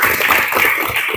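Applause from a school classroom or hall audience, a steady dense patter of many hands clapping throughout, fairly loud and close, with no talk over it.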